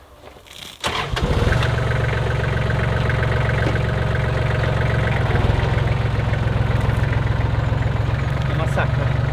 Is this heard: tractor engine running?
yes